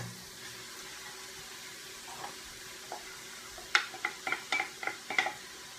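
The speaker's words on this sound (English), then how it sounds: "now I'm going to add my cauliflower and let that cook down for about 5 more minutes" Cauliflower cooking in a pan, a faint low sizzle that turns into a quick series of close scraping and tapping stirs toward the end, with no talk.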